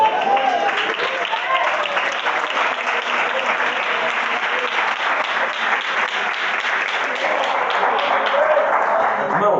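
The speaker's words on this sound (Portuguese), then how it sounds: "Senta e aplaude a Jesus," A seated church congregation claps during a sermon, a dense, even roll of applause from many hands lasting close to ten seconds, with a few voices rising beneath it.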